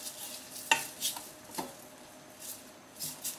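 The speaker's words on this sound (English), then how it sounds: "garlic in. So mix them in." Garlic being stirred into a peanut satay sauce in a pan on the stove, with a few distinct scraping and stirring strokes at an irregular pace over a soft, steady background.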